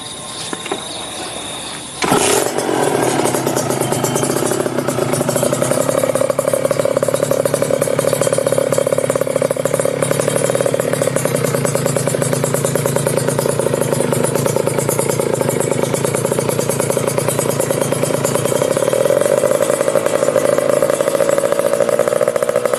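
A Kawasaki Ninja 150 RR motorcycle with an aftermarket exhaust fires up after a short lull and settles into a loud, steady, rumbling idle with a raspy edge that continues unbroken.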